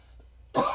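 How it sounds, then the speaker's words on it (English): A person bursts into loud, harsh coughing near the end, after a quiet lead-in, during a coughing fit. "I'm having a coughing fit."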